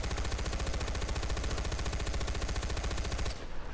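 Rapid automatic gunfire in Far Cry 4 aimed at rhinos: a dense, steady stream of loud shots for several seconds before it cuts off abruptly near the end.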